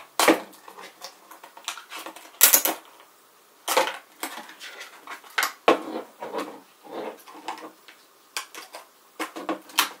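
A knife blade or serrated edge works through cosplay construction material, producing a series of short, sharp scraping and cutting strokes in irregular bursts. The sound is close and carries no talk.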